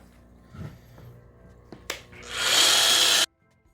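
A lapidary polishing pad works a stone in circular motions, starting with a few light taps and scrapes before a loud, bright whirring grind swells for about a second and cuts off abruptly, heard up close with no talking.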